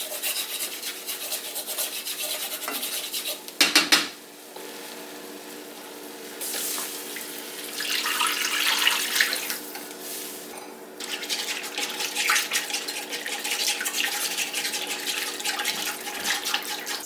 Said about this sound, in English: next I'm going to pour in 3 cups of chicken broth